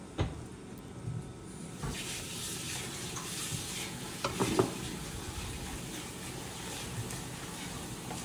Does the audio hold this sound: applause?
no